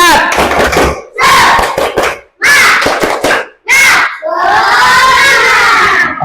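Schoolchildren in a physical education class shout a rhythmic clapping chant in unison, loud and close, with bursts separated by short pauses and a longer sustained group shout at the end.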